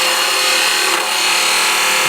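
A wood hand tool, edge riding on its bevel, pares along the grain in a short, continuous shaving rasp, close and fairly loud, with no voices.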